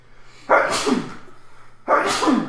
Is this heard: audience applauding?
no